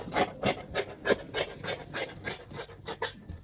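Scissors snip through dress fabric while a halter neck flare dress is being cut out, a series of about ten short, crisp rasping cuts in steady rhythm, close and fairly quiet, with no voices.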